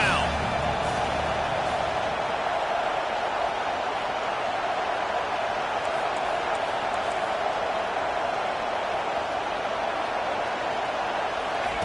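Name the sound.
crowd cheering in Madden 22 football video game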